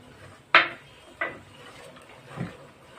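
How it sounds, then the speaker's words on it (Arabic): Peanuts being stirred in a cooking pot give a few distinct clanks and scrapes of a utensil, spaced out, close by and moderately loud against a quiet background. "هنزل بقى دلوقتي بالسوداني، وبرضو افضل اقلب فيه كده"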